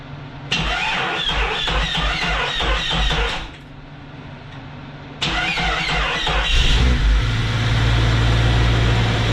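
A Jeep 4.0 engine cranking over on the starter in two long bursts with a pause between, a loud rhythmic churning with squeal, then settling into a steady running hum.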